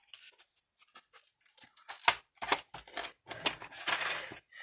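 Scissors snip through paper or card in short, quiet cuts that build into a run of louder, crisper snips, close by and with no talk.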